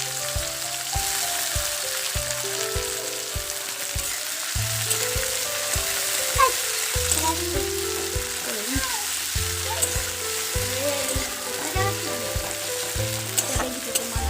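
Onions frying in a pan with heated cumin, a steady crackling sizzle with intermittent utensil taps and stirring scrapes, moderately loud and close, no speech.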